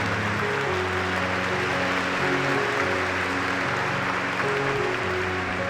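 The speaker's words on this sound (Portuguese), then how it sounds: "Uma salva de palmas então a São Judas Tadeu." A church congregation applauds at Sunday Mass in honor of Saint Jude Thaddeus, steady dense clapping throughout, with organ or keyboard tones sustained underneath.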